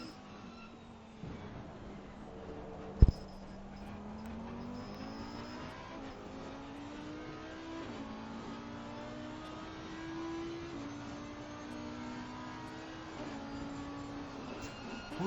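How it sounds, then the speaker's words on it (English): An Audi race car engine in Assetto Corsa Competizione at the Zolder circuit, a steady high revving whine rising and falling through gear changes, heard at moderate level with one brief sharp click. "Let's have a listen to the Audi."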